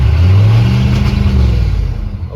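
A loud, close GMC K2500 pickup's 6.5 diesel engine revs and holds at high revs with a rough, shuddering rumble, then begins to ease off.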